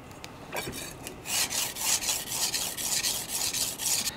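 A knife blade stroked along a whetstone while a secondary bevel is sharpened, giving a run of close, steady rasping strokes that grow louder and repeat in a quick, even rhythm with no talk.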